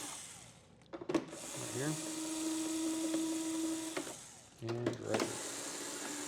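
A power screwdriver loosens screws on an SL Connect compartment, whirring in two short bursts with a steady tone between, close by, with a person speaking briefly over it.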